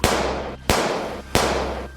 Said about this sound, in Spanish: con lo que menudearon los tiros